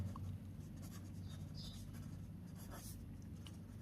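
Pen or marker scratches steadily across paper or a board while a math solution is worked out, a soft, close writing sound over a low steady background hum.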